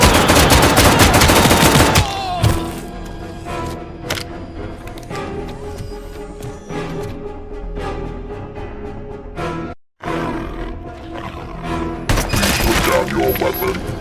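ED-209 robot opening fire in RoboCop Rogue City, with loud bursts of rapid machine-gun fire at the start and end, scattered impacts and booms in between, and voices talking over parts of it.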